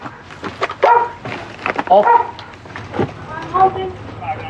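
Police dog barking repeatedly inside a house during a search, loud and close, in irregular bursts mixed with whines, while an officer shouts over it.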